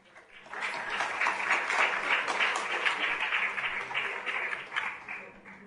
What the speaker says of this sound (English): Well, clapping is supposed to show appreciation.